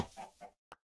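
Chickens in the farming game Cuboid Outpost cluck in a couple of short bursts followed by one brief cluck after a pause, moderately close and alone with no talk.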